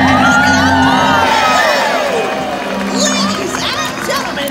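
Crowd at a SeaWorld San Diego sea lion show cheers and whoops loudly as the sea lion jumps over a bar, with children shouting within the dense, continuous roar.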